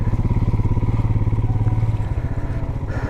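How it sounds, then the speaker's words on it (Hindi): A heavily loaded motorcycle riding a muddy mountain track of melting snow near Taarbal in Ladakh, its engine thumping in a steady close rhythmic chug that loosens and roughens toward the end. "बाइक चलाना थोड़ा मुश्किल हो रहा है, क्योंकि बाइक पर लोड ज़्यादा है।"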